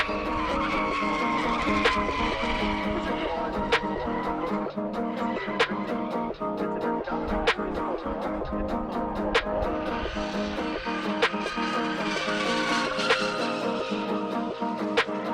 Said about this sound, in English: One of the funniest parts of the drift event was this Nissan Patrol drift car